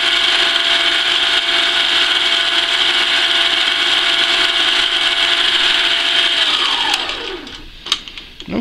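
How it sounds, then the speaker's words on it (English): Metal lathe taking a light finishing pass on a wheel: a steady, loud cutting hiss and whine that holds evenly for several seconds, then winds down as the spindle slows, ending with a couple of faint clicks. "It's going to be a very nice, light finishing pass. Barely touching the surface just to make sure everything is nice and smooth."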